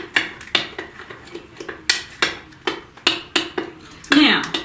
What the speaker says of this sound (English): let me get all this mixed. We want to get all of our lumps out of there